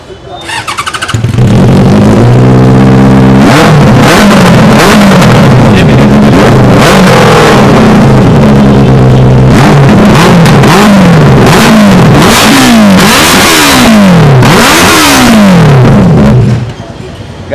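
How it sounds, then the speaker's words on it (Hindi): A Benelli 600i motorcycle, a 2019 model, starts and revs repeatedly, its very loud exhaust rising and falling in sharp blips close by over a long stretch. "एग्जॉस्ट नोट सुना देते हैं"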